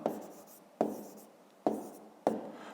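A pen writes numbers by hand on paper for a fifth-grade maths exercise: four soft scratchy strokes, each starting with a tap and fading, close and quiet with no talk.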